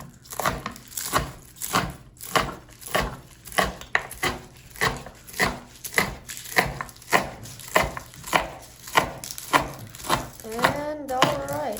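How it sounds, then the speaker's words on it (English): A knife chops fresh kale on a table at a backyard barbecue, a steady run of roughly twenty-five sharp, close thuds against a board. A brief tonal sound rises near the end. "Chopping the kale."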